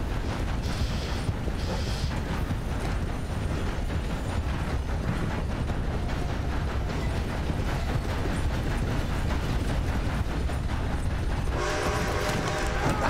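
A video-game train rolls past with a dense, continuous rumble and clatter of wheels and cars, loud and close, with a brighter horn-like tone rising near the end.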